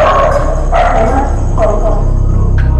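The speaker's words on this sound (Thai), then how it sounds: "สุนัขก็ได้เห่าด้วยค่ะ" A dog barks in several separate bursts during a ghost-hunting television programme. The barks are fairly loud and sit over a steady low background rumble.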